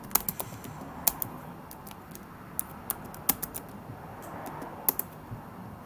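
Someone types a command on a computer keyboard, sharp individual key clicks falling in irregular bursts over a quiet room hiss, with no talking.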